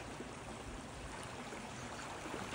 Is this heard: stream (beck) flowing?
yes